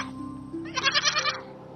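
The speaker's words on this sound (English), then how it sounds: "Yeah, that's a sheep." A sheep bleats on a farm, one wavering, vibrato-laden cry rising loud and close over a quiet background, then trailing off, with no voices.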